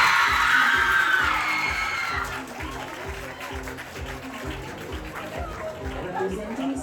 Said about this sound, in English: ladies and gentlemen, round of applause for your Christian Roberts